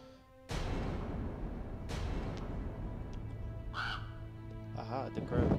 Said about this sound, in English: Aha, the crow.